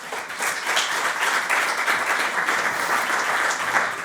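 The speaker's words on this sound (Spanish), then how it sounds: "Un aplauso para él" Steady, dense applause from an audience greeting a panel speaker at a Spanish pensions conference, sustained evenly for a few seconds at moderate volume, with no talk.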